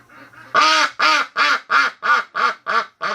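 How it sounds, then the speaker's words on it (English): Breeding ducks quack loudly just outside a window in a steady run of about eight harsh, evenly spaced calls, close and clear with no talk over them. "The ducks are outside the window."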